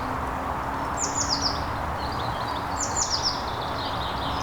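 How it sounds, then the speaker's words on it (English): Songbirds chirp in bright short bursts from a spring park woodland beside a tarmac path, two clear phrases rising above a steady outdoor background hum. "You can hear all the different bird song."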